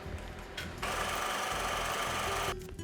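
A sewing machine stitches face mask fabric in a steady, rapid mechanical whir, starting after a short pause and running continuously at close range for nearly two seconds before stopping.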